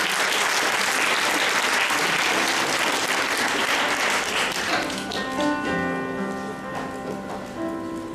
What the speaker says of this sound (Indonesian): Kasih tepuk tangan, Lina.